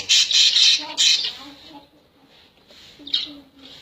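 Budgerigars give short, harsh squawks in close bursts, loud at first and then sparser with a quieter gap, with someone talking faintly underneath.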